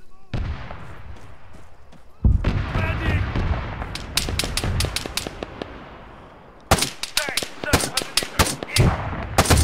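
Gunfire in the ArmA 3 video game: bursts of rapid, loud rifle and machine-gun shots crack in quick clusters, some near and sharp, others more distant, with a voice talking between volleys.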